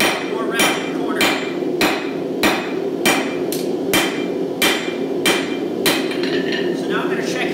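Hammer blows on a steel chef knife bar being forged on an anvil, about a dozen loud, sharp ringing strikes at a steady rhythm with a continuous low roar behind them.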